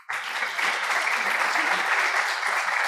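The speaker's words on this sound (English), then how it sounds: "So please give a round of applause for our panelists" Dense applause from a large audience welcoming panelists at a panel discussion starts abruptly and holds steady and loud for the rest of the moment.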